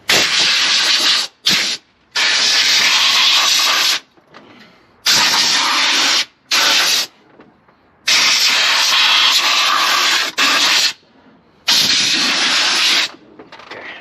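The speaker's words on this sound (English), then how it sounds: "I really want to use, like I said, some compressed air" Compressed air blasted at the intake of a 2015 Nissan NV3500 5.6L engine, coming as about eight loud, close bursts of harsh hiss, each lasting roughly half a second to two seconds, with brief silent gaps between them.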